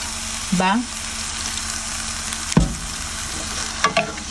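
Pork floss meat is slowly stir-fried in a pan with syrup, a steady sizzling hiss with occasional scraping strokes of the spatula and a couple of louder clanks, with no talking.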